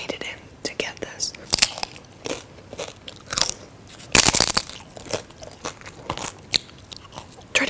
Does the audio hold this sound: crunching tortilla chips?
yes